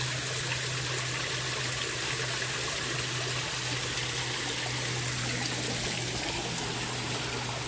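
Water trickles steadily from a small waterfall into a carp pond in a garden rest area, a continuous close splashing wash with no pauses, with a low steady hum underneath.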